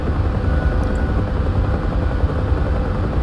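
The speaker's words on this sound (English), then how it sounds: "I do love flying the Huey, honestly." A Bell UH-1 Huey helicopter in the DCS flight simulator runs loud and close, its rotor and turbine giving a constant, dense thrum with no talk over it.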